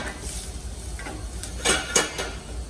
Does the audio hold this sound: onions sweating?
yes